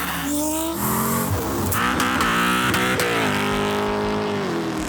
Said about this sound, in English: 2003 Terminator Cobra Mustang. And it is my wife's favorite sounding car.